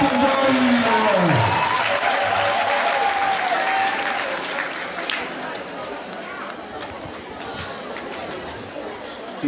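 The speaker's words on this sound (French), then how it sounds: "Sous vos applaudissements, s'il vous plaît, pour Céline McEnoy." Audience applause at a school award ceremony honoring dictation and mathematics competition winners, a loud sustained clapping crowd that slowly fades a little, with a voice speaking over the start.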